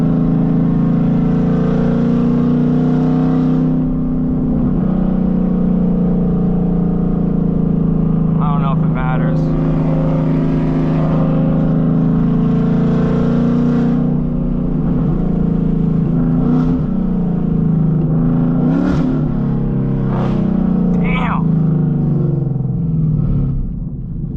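A 900-horsepower Ford Mustang engine hums steadily and loudly from inside the car while driving, with a sustained low drone, shifting pitch and brief revs, as people talk over it throughout.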